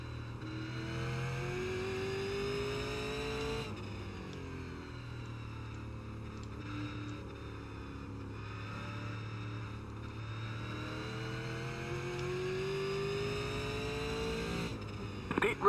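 Super Late Model race cars roar around Stafford in iRacing, a sustained engine drone with shifting harmonic tones that dip and rise as the cars pass, steady and fairly quiet with no speech over it.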